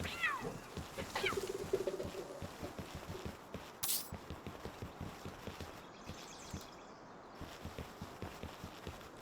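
A house cat meowing in a room, with a couple of rising meows early on, then steady rhythmic hoof-like game footsteps and clatter continuing underneath.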